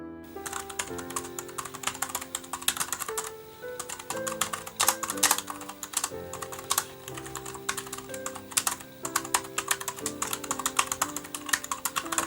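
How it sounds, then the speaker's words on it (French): Rapid, uneven clacking of keys on a loud portable keyboard paired with a tablet, typed steadily and recorded up close with no voices. "La course des touches est plutôt sympathique, on arrive à taper facilement sans avoir mal aux doigts, mais je trouve le clavier trop bruyant."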